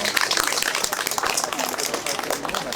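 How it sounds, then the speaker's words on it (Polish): Outdoor crowd applause at a pumpkin festival in Wrocław, dense and steady clapping mixed with voices and chatter throughout. "Wielkie brawa od razu"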